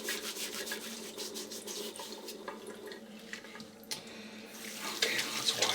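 Tap water runs and splashes while shaving lather is rinsed off the face after a day and a half of stubble, a steady close rushing stream broken by rubbing and splashing as hands move through it.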